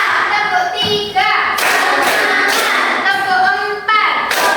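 Schoolchildren in a primary classroom clap their hands together in loud, counted bursts while chanting along in unison.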